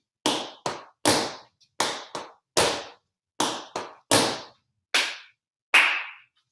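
Sharp hand claps ring out in a tap dance class, a series of about eleven crisp, loud claps in loose pairs and groups with brief pauses between them.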